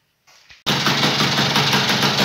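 Piaggio Ciao moped engine with a variator, cranked briefly, then catching and settling into a loud, steady buzzing idle at close range.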